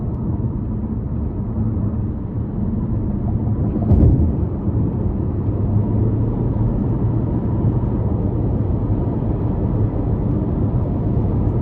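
A 2020 Chevy Malibu LT with a 1.5-liter turbo engine and CVT accelerating, heard from inside as a steady, loud low rumble and road roar with one brief thump partway through.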